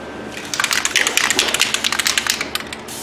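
A spray can coats the brake hub face of a Ford Fusion in short, hissing bursts, close and fairly quiet, with no talking.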